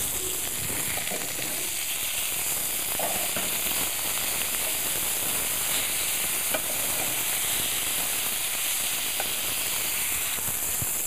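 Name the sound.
beef patties frying in a pan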